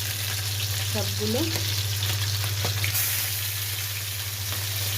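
Hilsa fish and eggplant frying in mustard oil in a frying pan, a constant loud sizzle with a short voice and a brief whistling tone over it.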